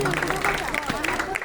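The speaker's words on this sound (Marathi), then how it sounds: "जरा जोरदार टाळ्या होऊ देत." Audience applause rises at a taluka-level school children's sports and arts festival in Pombhurle, Devgad, steady clapping and crowd murmur held throughout under a voice talking.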